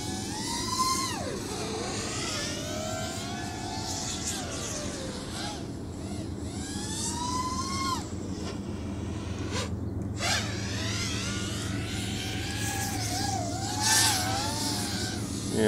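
Racerstar Sprog-X 2205 brushless drone motors spin up on a bench, a steady whine with rising and falling pitch sweeps as the throttle changes, loud and close, with a low hum beneath.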